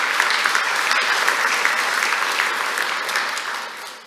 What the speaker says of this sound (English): So can we give a round of applause, actually, for Datadog for supporting that?